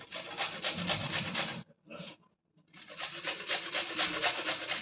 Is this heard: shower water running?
no